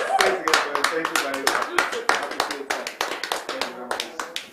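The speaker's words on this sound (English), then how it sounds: "round of applause" Applause in a barrister's chambers scene from an African film, a small group clapping close by in uneven, rapid bursts, fairly loud, with voices mixed in.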